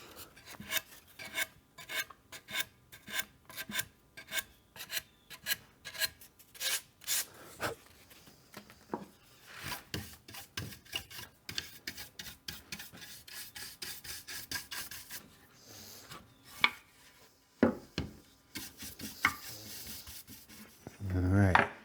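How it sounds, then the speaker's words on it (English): Wood is brushed down during prep with firm, repeated rasping strokes, steady at first and then faster and denser. The strokes are close and moderately loud and run continuously through the clip. "I want to brush it down the best I can here."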